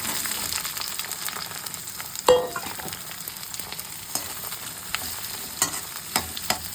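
Onions sizzle in hot oil with urad dal while cooking a fish puttu, a soft continuous frying hiss with one sharp clatter early on and scattered stirring taps, close-up and with no voices.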